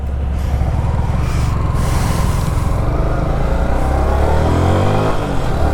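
A Bajaj RS200 BS4 motorcycle running, a loud steady engine close by with a deep low throb and a gradual rise in revs toward the end.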